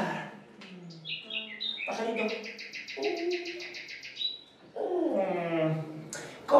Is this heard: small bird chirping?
yes